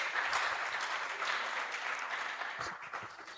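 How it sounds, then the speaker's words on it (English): Audience at a civil engineering student conference applauds the sponsor, a moderately distant, even wash of many hands clapping that carries on for several seconds. "So a round of applause for CFI Services."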